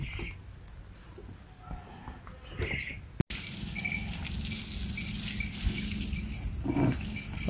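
Water runs and splashes as a buffalo is washed with shampoo, a steady near flow that grows louder after a brief break, with faint birdsong behind.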